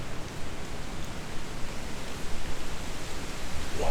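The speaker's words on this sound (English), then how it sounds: "It's raining." Rain falling outdoors during a Missouri deer hunt, a steady, even hiss of drops with no pauses, close and moderately loud, heard alone without any talk.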